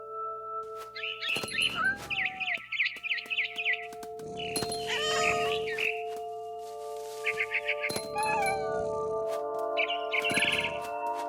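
Cat meowing in the video game What Remains of Edith Finch, several drawn-out meows and yowls spaced across the stretch, mixed with repeated bird chirps and game music tones.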